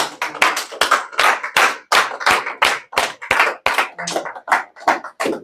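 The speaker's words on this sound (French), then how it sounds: "Acclamons la parole de Dieu" A church congregation claps in unison, a loud, close series of about fifteen sharp claps in a steady rhythm, with no talk between them.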